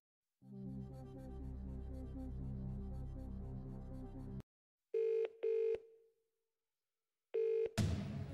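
Telephone dialing for phone a friend in the Who Wants to Be a Millionaire Family Picture Edition DVD game: a steady tone, then a silent gap, then short repeated ringing beeps and a final burst, clean and fairly faint, with no talk.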